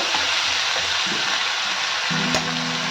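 Ginger paste, chili powder and spices fry in a pan for matar paneer, giving a steady loud sizzle with light stirring scrapes near the end.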